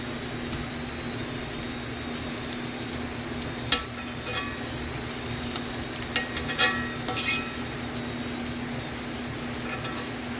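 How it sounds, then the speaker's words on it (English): Fish fries in a cast iron skillet with a steady soft sizzle, broken by a few sharp clinks and scrapes of a utensil, under a constant low background hum. "Cast iron skillet is the only way to go, especially when you're cooking fish and stuff like that."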